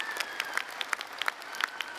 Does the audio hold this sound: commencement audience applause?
yes